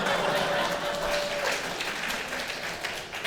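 An audience at a talk breaks into applause, a dense wash of clapping that holds steady and fades slightly toward the end, with a voice briefly audible early on.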